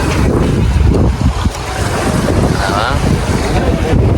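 A boat moving over water with a steady engine rumble, splashing, and heavy wind buffeting the microphone, loud and continuous.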